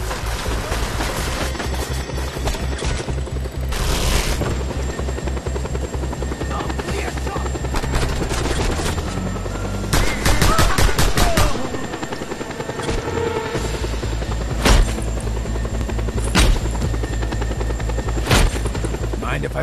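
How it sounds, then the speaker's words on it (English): Helicopter rotor drone and engine roar from the Just Cause 2 video game, loud and continuous, with bursts of gunfire crackling over it partway through and a few sharp impacts later. "A chopper!"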